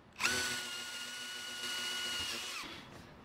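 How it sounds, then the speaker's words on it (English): A power drill with a 3/8 bit whines up to a steady high pitch as it bores through a wooden barn door, then winds down and stops near the end. "with a 3/8 bit, we're going to use our pilot holes as our guide to drill through the door"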